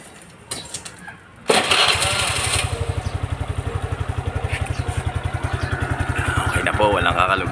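Suzuki Address scooter engine, freshly serviced CVT, starts up after a brief crank and settles into a steady, close, rhythmic idle with even pulsing; some faint clatter and background noise precede the start.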